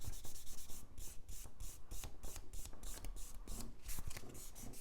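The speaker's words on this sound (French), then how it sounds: "je viens buffer mon ongle naturel tout simplement" A natural fingernail is buffed with a nail buffer during a gel manicure, giving a steady rapid scrubbing rub in quick repeated strokes, close and moderately quiet with no talking.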